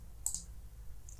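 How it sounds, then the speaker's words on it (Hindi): A computer mouse gives a quick double right-click, followed by a faint single click a moment later, close and crisp over quiet room noise. "राइट क्लिक करके"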